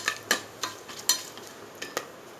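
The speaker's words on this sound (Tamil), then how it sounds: "பட்டை கிராம்பு ஏலக்காய் நம்ம இந்த ஹோல் கரம் மசாலா வச்சுருந்தோம்ல அதெல்லாம் போட்டுட்டு ஒரு கரண்டி வச்சு நல்லா வதக்கிக்கிறோம்" Cinnamon, cloves and cardamom sautéed in a pan with a ladle produce a soft background sizzle broken by a series of sharp scraping and tapping strokes, close and fairly quiet.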